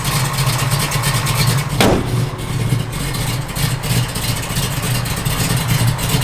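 A 1967 Chevrolet Camaro RS/SS running on pump gas, its engine rumbling loud and close with a steady low throb and a sharp rev blip partway through before settling back to a rough idle.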